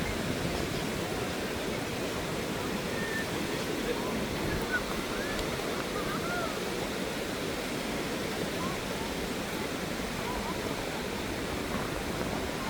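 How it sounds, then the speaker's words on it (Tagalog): Ocean surf on Boracay beach rolls in as a continuous, dense wash of breaking waves, loud and close, with no talk over it. "Ayan ang alon guys."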